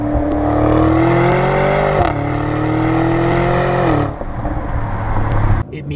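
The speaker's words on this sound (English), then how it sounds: "I think what sells this car is the exhaust note." A V8 luxury SUV, either a 2020 Audi SQ7 or a 2021 BMW X5 M50i, with a loud, deep exhaust rumble close by that holds steady, dips briefly, then drops off near the end.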